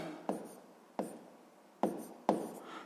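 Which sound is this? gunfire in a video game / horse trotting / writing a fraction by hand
writing a fraction by hand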